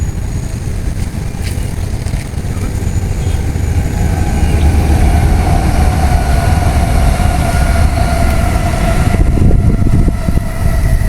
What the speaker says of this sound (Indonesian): sudah masuk tunnel 10 menuju stasiun Padalarang